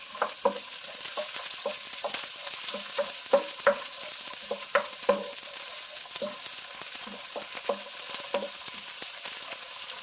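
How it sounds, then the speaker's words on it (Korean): Garlic and ginger stir-fried in oil for Chinese meatballs (nanjawanseu): a soft continuous sizzle broken by frequent sharp clicks and scrapes of a utensil against the pan, close with no talk. "마늘, 생강을 넣어서 향을 낸다 고해요"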